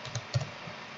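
Command typed on a computer keyboard while configuring a Debian 8 system in the nano text editor: a few soft, quick key taps within a second, close but faint.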